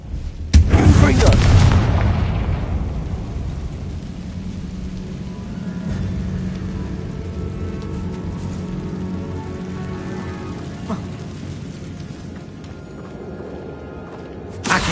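A Confringo blasting spell goes off in Hogwarts Legacy, a loud booming explosion that rumbles and decays over several seconds into a lingering roar, with the game's ambience continuing beneath.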